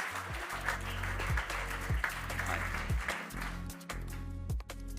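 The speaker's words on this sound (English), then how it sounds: "May I please ask you for a big round of applause for Leif Johan Sevland." Audience applause at an economics and energy conference welcomes a speaker onto the stage, a steady wash of clapping with low rhythmic thumps and music-like tones running underneath.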